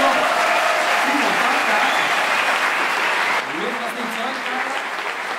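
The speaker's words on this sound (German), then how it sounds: "Wir geben euch einen riesen Applaus mit" An audience at a reception honouring an Olympic athlete applauds in sustained, dense clapping that dips slightly partway through and keeps going, loud and close, with some voices mixed in.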